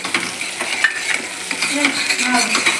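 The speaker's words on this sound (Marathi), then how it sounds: "पहिले मी थोडं परतून घेतलं आता टमाटो पेस्ट टाकून देते मी" Tomato paste and onion paste are sautéed in a pan for pav bhaji, with close spoon scrapes and stirring knocks over a steady sizzle, no speech.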